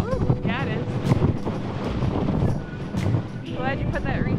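Gusty wind buffets the microphone in low rumbling surges on a sailboat in the Gulf of Mexico while people talk over it, with faint water and rigging noise in the background.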